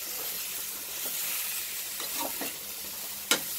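Bitter gourd sautéing in oil for a tamarind curry gives a steady close sizzle, with a few soft stirring scrapes and one sharp spatula knock near the end.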